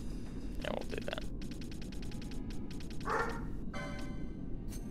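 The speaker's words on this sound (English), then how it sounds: "And there's dog barking. Barky, bark, bark. He is barking at nothing." Repeated dog barks from Final Fantasy XII: The Zodiac Age, coming in several quick rhythmic bursts of yaps over a steady background hum, with no talking.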